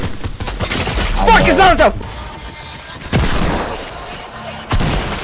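Gunfire in the Fortnite video game crackles in bursts across the scene, with a louder shot near the start and further reports later, while players talk and shout excitedly over the shooting.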